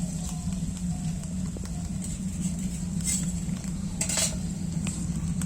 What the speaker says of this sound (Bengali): ভুটের উনুনে লোহার কড়াই করে সর্ষের তেলে তাল পুরিগুলো বানাচ্ছি।